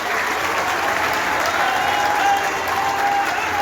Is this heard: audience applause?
yes